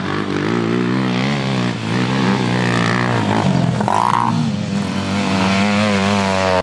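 Motorcycle engines roar and rev at a winter exhibition of motorcycle sport in Vyborg, a loud continuous drone with shifting pitch running through the whole stretch, with no talk over it.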